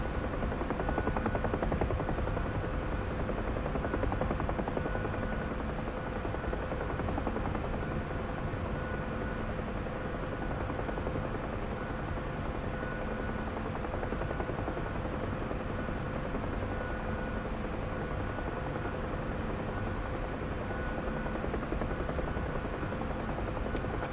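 A UH-1 helicopter in the DCS flight simulator, holding low altitude, gives a steady, loud, continuous rotor and engine drone throughout, with no talk.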